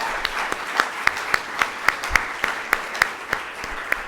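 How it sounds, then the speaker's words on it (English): At a tech press conference, an audience gives Madam President a round of applause, heard as a steady wash of clapping with sharp, evenly spaced louder claps close by. "a big round of applause for Madam President"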